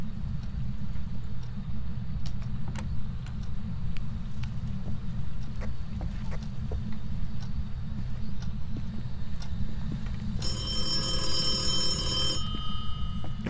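A phone rings inside the ghost-hunting game Phasmophobia, a shrill electronic trill bursting in near the end over a steady low game hum, with faint clicks scattered earlier.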